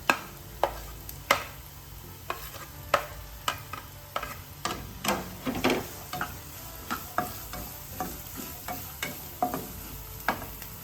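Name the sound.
chopped onion sizzling in hot oil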